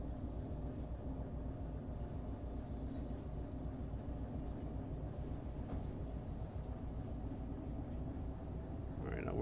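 Virtual train rolling on rails in the Derail Valley game, a continuous low rumbling drone with faint rhythmic clatter, steady and fairly even throughout.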